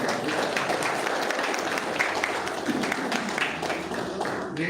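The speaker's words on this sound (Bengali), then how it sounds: "সবাই একটু করতালি দিয়ে অভিবাদন জানান" Audience applause at a community discussion meeting on preventing trafficking of women and child marriage, a steady dense crowd clapping that stays even and fairly loud throughout with faint voices underneath.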